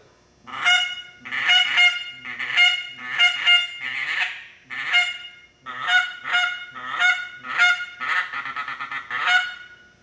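A goose call imitates at least two geese, giving a run of sharp, nasal honks in quick bursts, some doubled or clustered, loud and close with short pauses between.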